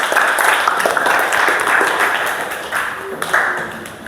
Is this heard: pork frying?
no